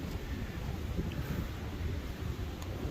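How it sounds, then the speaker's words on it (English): Cold, strong wind blows against a tarp shelter on a mountain trail, a continuous low rushing noise with slight gusting and no speech. "it's trying so hard against the wind right now"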